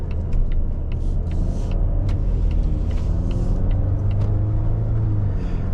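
A 2023 Volvo S90 B6 mild hybrid idles with a low, steady engine rumble that stays close and even throughout, with faint ticks and clicks above it.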